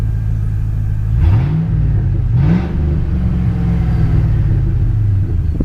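Truck engine idling steadily on a 5-speed Chevrolet Silverado extended cab, a low continuous rumble with two brief rev swells early on before settling back to a smooth idle.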